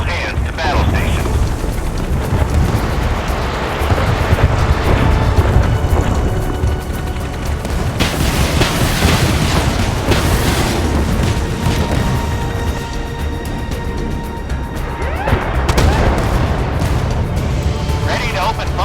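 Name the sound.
warship naval gunfire and explosions in the video game Force of Warships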